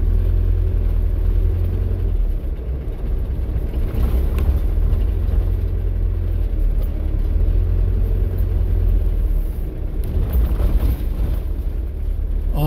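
A car cruises along Marine Parade in Napier, New Zealand, its engine giving a steady, close low rumble with road noise that holds evenly throughout, with no talking.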